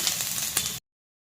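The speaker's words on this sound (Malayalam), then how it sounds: "നമ്മൾ 2 സവോള നീളത്തിൽ എരിഞ്ഞത് ചേർത്ത് കൊടുക്കുന്നുണ്ട്. എന്നിട്ട് നന്നായിട്ടൊന്ന് വഴറ്റി കൊടുക്കാം." Long-sliced onions sizzle in hot oil in a pan, a steady close frying hiss lasting under a second for a Kerala duck roast, with no voices.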